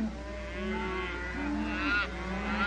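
Cattle by a river let out a long, low moo that wavers and rises, fairly close and moderately loud against quiet outdoor ambience.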